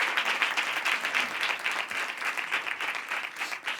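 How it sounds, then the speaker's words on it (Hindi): An audience claps for speaker Patni at a public speaking session, dense continuous applause that stays fairly loud and steady across the few seconds. "हम बहुत ज़्यादा तालियां बजानी होगी पाटनी साहब के लिए।"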